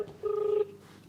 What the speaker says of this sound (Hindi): चलिए लगाइए आप लाउड स्पीकर फोन लगाइए सत्यनारायण।